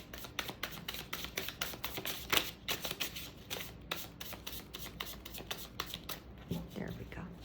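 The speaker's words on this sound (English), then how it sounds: "Let me shuffle" Tarot cards being shuffled by hand during a pick-a-card reading, a close series of crisp riffling snaps and soft slides in an irregular rhythm, with brief quiet talking mixed in.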